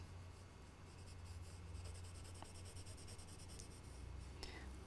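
A pencil shades a mountain in grey on paper, giving a soft, continuous scratchy rubbing with back-and-forth strokes, close and quiet, with no voice over it.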